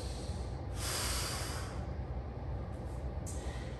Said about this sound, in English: Do some breathing into the belly, into the rib cage, in through the nose,